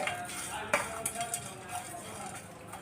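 Spices dry-roasting in a pan for an egg curry, with a faint sizzle under repeated metal scrapes and clinks of a spoon stirring, heard up close and without talk.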